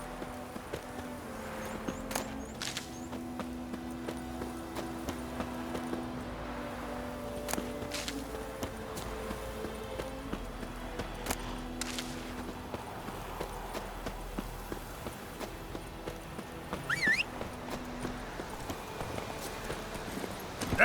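Roach, a horse in The Witcher 3 video game, clip-clops along in a steady, soft walking rhythm that runs the whole time under a faint background hum and occasional game sounds.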